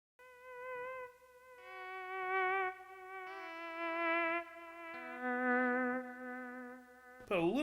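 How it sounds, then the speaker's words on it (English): Electric guitar played through a Tech 21 Fly Rig 5 set to a long delay, sustained notes ringing and repeating in echoing layers, loud and alone, ending in a bright wobbling swell. "I got it set the delay set on a pretty long delay there"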